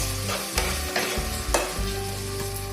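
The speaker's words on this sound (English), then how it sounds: "Now I'll fry the spices till oil separates" Spice masala paste frying in oil for a Bengali crab curry, a dense close sizzle broken by a few sharp spatula scrapes and stirring knocks, loud and steady with no talking.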